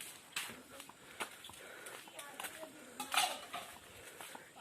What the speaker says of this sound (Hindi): जो कि यहाँ गांव में बर्तन मजा रही है, मांझ रही है